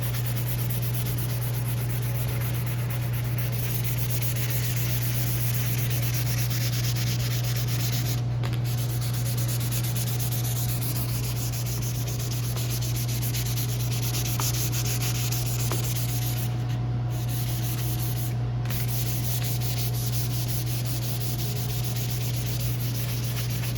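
Continuous hand sanding of paint off an Audi hood panel, a steady scratchy rubbing that runs on without pause over a constant low hum.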